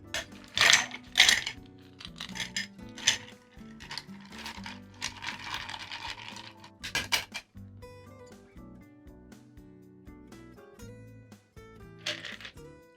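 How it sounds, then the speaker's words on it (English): Ice cubes rattle and clink in a mixing glass as a Vieux Carré cocktail is stirred, bursts of close, bright clatter in the first seconds, then quieter swirling with soft background music. "we're going to go ahead and ice this thing down and stir it up"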